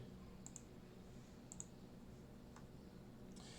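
A few soft, sharp clicks spaced irregularly, like a computer mouse being clicked, quiet against a faint background hum.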